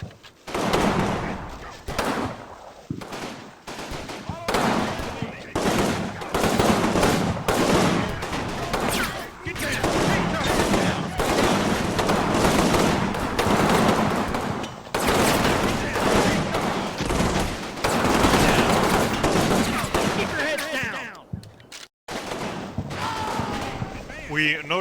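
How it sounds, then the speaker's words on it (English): Light mortar rounds slam into positions in the Combat Mission war game Rome to Victory as a long run of sharp, loud blasts and crackling bursts, closely spaced with only brief lulls between volleys. "the light mortar rounds are impacting up there"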